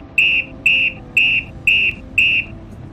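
A traffic police whistle gives five short, sharp blasts at even intervals, each one shrill and clear, over a low background hum.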